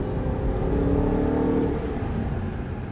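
An Audi R8 V8 accelerating on a race track, a loud, steady engine roar with a rising tonal whine from inside the car, holding strong before easing slightly.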